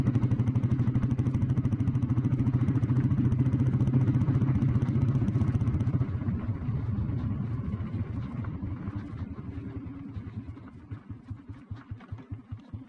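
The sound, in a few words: Royal Enfield Bullet petrol motorcycle riding in top gear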